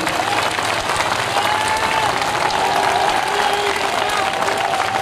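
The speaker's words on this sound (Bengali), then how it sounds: "সবাই মিলে হাততালি দেন পাশ থেকে" Audience at a Jamalpur party workers' meeting of student, youth and volunteer wings claps together in a steady, dense, continuous round of applause lasting throughout, with faint crowd murmur underneath.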